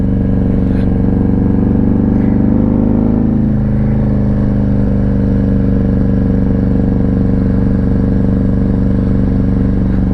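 A motorcycle engine idles loudly and steadily, its exhaust throbbing with a deep, constant rumble and a brief rise in revs early on.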